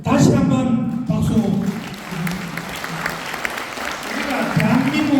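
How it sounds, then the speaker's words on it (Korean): Audience applause at a provincial governor's special lecture rises and continues for several seconds, a dense spread of clapping with a voice speaking over the start. "오늘 도의사님 이 먼 길 오셔가지고 나중에 바쁘신데도 불구하고 이 특강을 해주신 다시 한번 박수."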